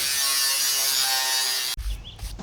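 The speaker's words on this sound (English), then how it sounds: "what I'm going to do is score it along the line, and that'll help to bend it over" Scrap sheet metal for a wood-burning barbecue grill lid is scored along a line with a buzzing, steady scrape that stops abruptly, followed by a couple of dull knocks.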